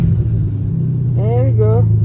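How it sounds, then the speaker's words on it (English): Car engine cranking over after a new battery was fitted, a steady loud low rumble with a rising whine as it tries to catch; a person talks over it. "Well, I'm cranking, see if they crank."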